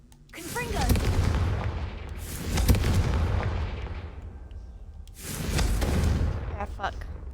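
Spell blasts from the Confringo fire spell in the Hogwarts Legacy video game boom out in two heavy bursts with rumbling tails, over a game soundscape with a voice calling out the spell.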